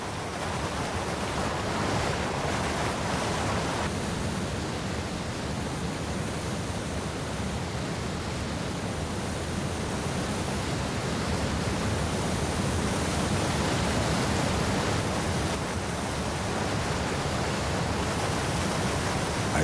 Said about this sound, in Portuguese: transformando-se em cachoeiras e córregos torrenciais